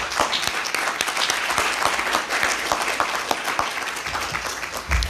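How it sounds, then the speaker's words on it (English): Steady audience applause fills a luncheon room at the Norris Conference Center, dense and fairly loud clapping from a mid-sized crowd sustained for the whole five seconds. "Can we applaud you?"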